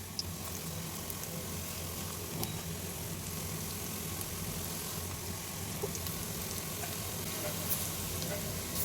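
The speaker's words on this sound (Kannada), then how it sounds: "ಹಾಗಾಗಿ ಬೇಗನೆ ಫ್ರೈ ಆಗ್ತಿದೆ. ನೋಡಿ ಚೆನ್ನಾಗಿ ಫ್ರೈ ಆಗಬೇಕು." Food sizzles steadily in well-heated oil, a dense continuous crackle and hiss that stays at an even level throughout with no voices over it.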